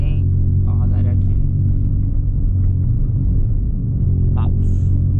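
A tuned VW up! TSI, Stage 3 with air suspension, driving at night, its engine giving a steady low rumble from inside the cabin, with faint brief chirps over the drone.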